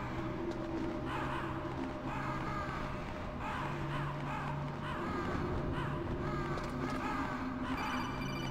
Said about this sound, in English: I could shoot the birds, but why would you?